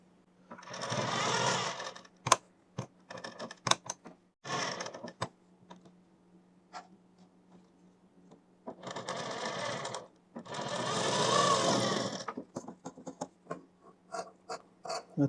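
A sewing machine stitches a kurti neckline in several short whirring bursts, separated by quiet pauses and sharp mechanical clicks, close and clear.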